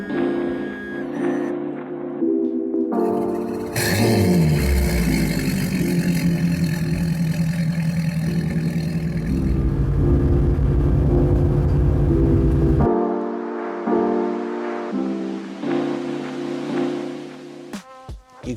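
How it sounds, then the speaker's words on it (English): Mercury 300 V8 outboard engine on a Nimbus C9 boat running on the water, a loud steady drone that swells and holds for several seconds, with quieter idle-like rumbling before and after, no talking. "this boat's equipped with the Mercury 300 V8, so this gives us around 40 knots wide open throttle"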